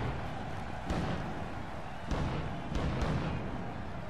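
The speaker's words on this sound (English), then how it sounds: "Explosions everywhere, fireworks, and then some." Dull booming bursts of pyrotechnics and fireworks go off several times at a wrestling event over a roaring crowd-like wash, loud and echoing.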